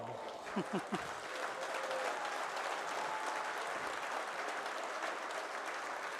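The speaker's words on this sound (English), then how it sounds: "it's lovely to see the applause for what was a magnificent effort" Sustained crowd applause fills an arena at the WDF 2024 World Championship darts event, opening with a few loud sharp claps before settling into a steady, even roar of clapping with no voices.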